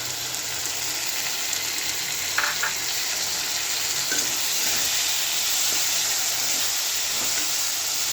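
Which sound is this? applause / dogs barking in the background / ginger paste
ginger paste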